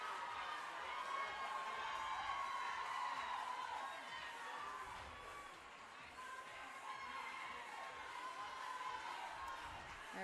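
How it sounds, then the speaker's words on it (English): At a Burn Boot Camp fitness competition, a crowd cheers and shouts encouragement at an athlete doing sprints, a faint, continuous murmur of voices and calls heard from some distance. "You hear the crowd encouraging Jamie."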